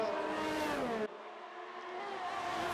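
Race cars in a racing video game on a Tier 1 Austria circuit slow into a corner, engines dropping in pitch with a sudden cut in throttle before revving back up, loud and close, with no talk.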